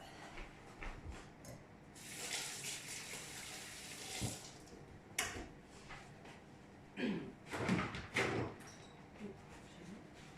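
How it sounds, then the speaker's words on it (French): Hands rinsed under a running kitchen tap, with water gushing and splashing in uneven bursts, some rubbing and sink clatter between the flows, fairly quiet and without talk. "Je vais juste me rincer les mains."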